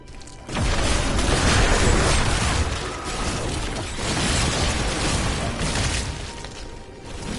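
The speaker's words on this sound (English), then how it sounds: "Corpse explosion, dude. It's insane." A corpse explosion skill in the video game Diablo 3 erupts in a loud, sustained burst of booming, crackling blasts that fill the space for several seconds.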